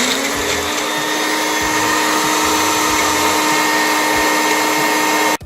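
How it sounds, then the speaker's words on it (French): A countertop blender runs steadily at full speed, puréeing avocado cookie batter until creamy, a loud, continuous whirring drone close by that cuts off abruptly at the end. "tu places la couverture sur ton mixeur et tu vas le mixer jusqu'à temps que ce soit vraiment, vraiment crémeux"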